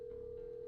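A steady, unbroken telephone tone in the video game Shivers 2, a single clear pitch humming on without a break, faint and alone.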